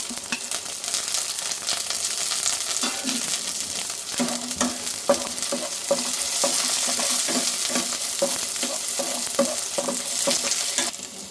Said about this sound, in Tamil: இப்போ ஒரு நாலஞ்சு பல் பூண்டும் கொஞ்சம் கருவேப்பிலையும் போட்டுக்கலாம்